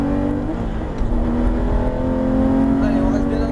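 A Porsche GT3 RS on a racetrack accelerates at full throttle, its engine a sustained loud, rising drone heard from inside the car with a voice talking over it.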